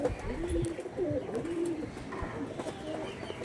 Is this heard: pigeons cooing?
yes